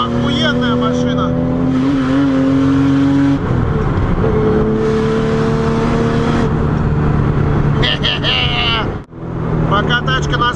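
A tuned Subaru accelerates hard through the gears, with a loud engine that rises in pitch, slight turbo lag at each shift, brief pauses between gears and a short dip near the end, while a voice talks over it.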